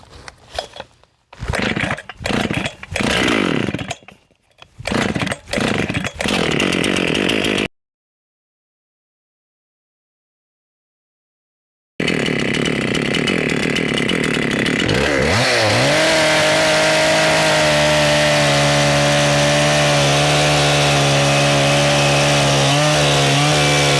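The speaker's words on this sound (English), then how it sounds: "Get the saw warmed up." A 1989 Husqvarna 268 XP chainsaw cuts through a large white pine log outdoors, with choppy bursts of running and revving, a pause of silence, then a long steady loud cut that labours and drops in pitch.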